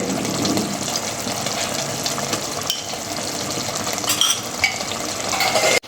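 Ghee hits a soybean curry in a hot pan, giving a continuous loud sizzle with scraping stirs and a few clinks of the spoon, no voices.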